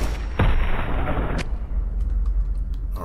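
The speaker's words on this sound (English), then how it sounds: "let's start the party with the big rifle" A big rifle fires once in the video game Fallout 4, a loud sudden blast followed by a sustained rumbling tail and faint clicks, with no talk over it.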